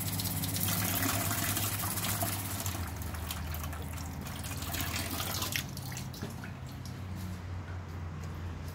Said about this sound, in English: So when I'm operating the water pump, it just drains out of the side.